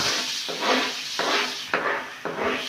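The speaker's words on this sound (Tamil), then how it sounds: "வெங்காயத்தை போட்டுக்கலாம்." Onions sautéing in oil for a paneer gravy, sizzling close with rhythmic scraping strokes of a spoon, about four stirs in a steady pattern.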